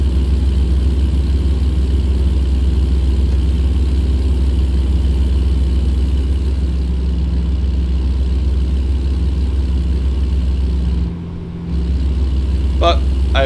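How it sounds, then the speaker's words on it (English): A truck engine drones steadily in a truck simulator game played with a Moza wheel, cruising around 1500 RPM at 75, a continuous low rumble with a brief dip near the end. "I don't want to over rev the engine again."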